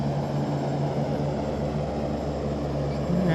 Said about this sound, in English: My 3 remaining engines are running at full.